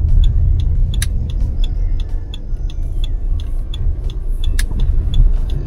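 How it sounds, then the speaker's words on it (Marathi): A white car approaches along a residential street near a railway station, heard as a loud, steady low road rumble with scattered light clicks and ticks over nearly six seconds, with no voices. "समोरून जी व्हाईट कार येत आहे"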